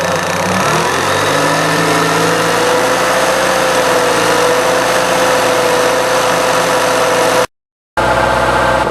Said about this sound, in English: I just speed that up by revving the engine up.